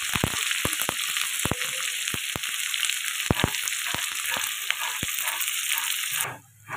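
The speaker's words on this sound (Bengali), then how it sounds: "পেঁয়াজটা ভাজা ভাজা হয়ে গেছে" Long-sliced onions fry with garam masala in hot mutton fat for ghugni, a steady close sizzle broken by repeated sharp clicks of a spoon stirring against the pan, ending in a short drop-off.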